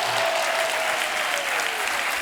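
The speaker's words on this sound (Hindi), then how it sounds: "एक बार जोरदार तालियां हमारे मेहमानों के लिए।" Loud, sustained applause from a studio audience for guests at the close of a talk show, a thick wash of clapping with a faint tonal hum beneath it and no speech on top.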